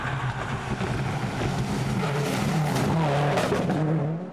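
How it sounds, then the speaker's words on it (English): A much modified Toyota Starlet rally car on a rally stage gives a continuous engine drone under rough tyre and gravel noise, passing fairly close and building in loudness through the middle before easing slightly at the end. "Peter Howley's much modified Starlet is running well on stage one."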